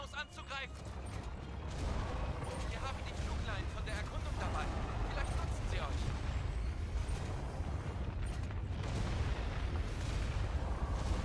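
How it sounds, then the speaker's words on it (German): Cannon fire against a giant stone bear monster in the video game Wild Hearts: heavy booming blasts and rumbling mechanical impacts roll continuously, with a person talking over the din. "Ich kämpfe hier mit einer verdammten Kanone gegen einen Berg."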